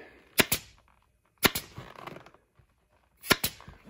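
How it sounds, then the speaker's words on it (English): Pneumatic staple gun driving staples through upholstery fabric into an ATV seat base, three sharp doubled snaps spaced about a second apart, close and alone with quiet pauses between. "you twist it as you staple it"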